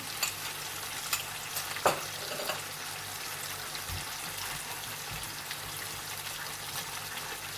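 Leftover steak marinade sauce hits a pan of golden fried onions and sizzles loudly and continuously, with a brief splash as it pours in and light stirring scrapes; no talking.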